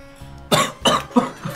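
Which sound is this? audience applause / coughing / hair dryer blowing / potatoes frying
coughing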